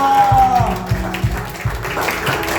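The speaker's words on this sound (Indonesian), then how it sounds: "orang-orang yang bersyukur kasih tepuk tangan buat Tuhan Yesus" Church congregation clapping at a Sunday worship service, a few rhythmic claps leading into steady, fairly loud applause that blends with sustained music tones throughout.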